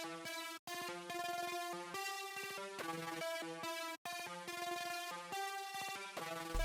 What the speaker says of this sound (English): also out of Onyx Stylus Serum Bank. The lead's called Angels plus Air,